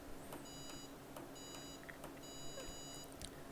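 A small electronic buzzer on a microcontroller music box project sounds in three bursts of rapid, high-pitched beeps, faint against a steady background hum with a few clicks.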